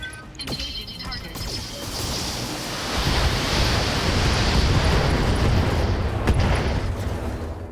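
Ammo explosion in a video game, a sudden swelling burst at about three seconds that settles into a loud, sustained rumbling roar, following quieter game sounds with faint tonal effects.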